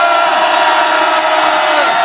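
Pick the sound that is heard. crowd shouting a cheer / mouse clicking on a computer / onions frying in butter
crowd shouting a cheer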